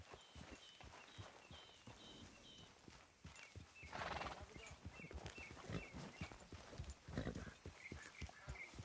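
Horse hooves clip-clop steadily at a riding pace in Red Dead Redemption 2, with a neigh and in-game speech over the hoofbeats and music.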